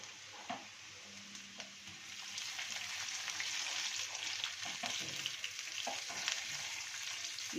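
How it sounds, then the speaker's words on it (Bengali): Water poured into a hot pan of spiced ingredients for semolina fritters, giving a continuous sizzling, bubbling hiss that builds and stays fairly steady, with a few faint clinks at the start. "এরপরে আমি জল দিয়ে দেবো।"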